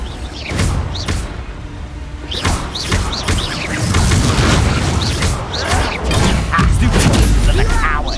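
Confringo fire spell blasts in Hogwarts Legacy combat, a run of booming thuds and bursts in quick succession amid clashing spell effects.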